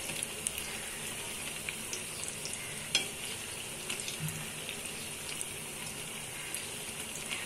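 Potato pakoras frying in hot oil make a continuous, bright, crackling sizzle with small pops and spatters. A faint clink rises partway through. There is no talking.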